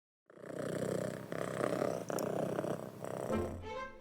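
A young grey and white tabby kitten purrs softly and close by in a steady, rumbling rhythm that rises and falls with each breath.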